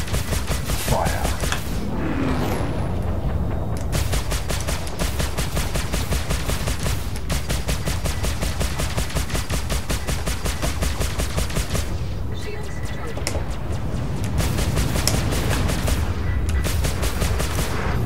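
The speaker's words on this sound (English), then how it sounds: "M4A laser cannons, Badger repeaters, Bulldog repeaters." Spaceship M4A laser cannons plus Badger and Bulldog repeaters firing continuously in the Star Citizen game, a dense, loud, rapid stream of blasts with brief pauses, during a Super Hornet fight against a Vanduul swarm.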